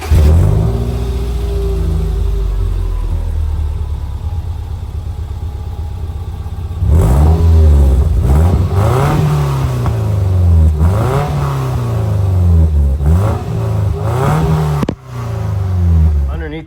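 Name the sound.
Subaru EJ20 engine exhaust revving, Flashark UEL header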